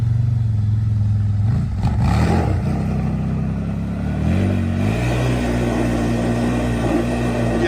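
A 2024 Yamaha Wolverine X2 1000 UTV fitted with an MSC Stage 3 trail clutch kit accelerates hard. The engine revs loud and close with a rising, droning tone and no talk over it.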